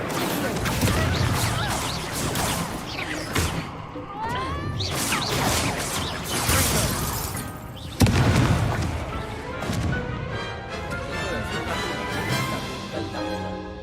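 Spells from the Hogwarts Legacy video game, the Incendio fire spell and the Levioso levitation spell, burst out as repeated sharp crashes and booms among magical whooshes. Spoken incantations and other voices come through between and over the effects.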